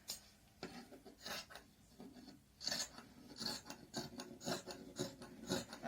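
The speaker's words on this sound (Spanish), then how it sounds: "Mi playera viejita la voy a cortar todo el ancho." Scissors cut across the width of an old t-shirt, making repeated crisp snipping and rasping strokes, close but quiet, in an irregular rhythm over several seconds.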